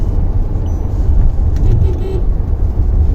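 A Volkswagen Taigun 1.0 TSI with manual gearbox cruises in 6th gear, giving a steady, loud low-frequency engine and road drone from inside the cabin, with no voices heard.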